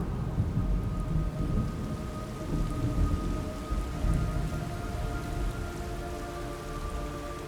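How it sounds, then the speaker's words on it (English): Steady heavy rain pours throughout in Metal Gear Solid Delta, with low rumbling thunder rolling underneath; a dense, continuous storm sound with no voices. "It's raining blood."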